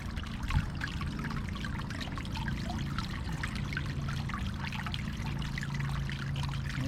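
Water carrying mosquito fish tipped into a garden lily pond, a steady close trickle and splash of pouring liquid lasting throughout, with a brief louder splash near the start.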